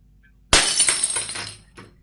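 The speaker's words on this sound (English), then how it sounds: "there's 191 sounds smashing glass" Glass smashes in one sharp, loud crash followed by tinkling shards scattering for about a second, then a brief smaller clink near the end; a stock smashing-glass sound effect heard alone.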